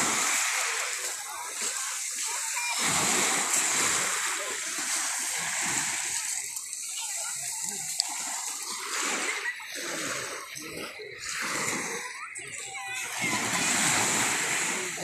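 Sea water splashing around a person bathing at the beach, with repeated irregular splashes and surf-like wash filling the clip at close range.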